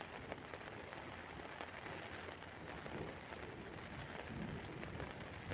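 Steady rain pattering on a tent in a storm, a continuous dense hiss of drops on the fabric, fairly quiet and even throughout. Any thunder is only a faint low rumble buried beneath the rain.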